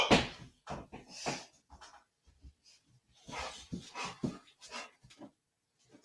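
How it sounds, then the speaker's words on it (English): A pit bull pants and whimpers close by in short, irregular bursts of breathy huffs and soft whines, with brief quiet gaps between them. "I got a big old Roddy. No, I mean a big old pit,"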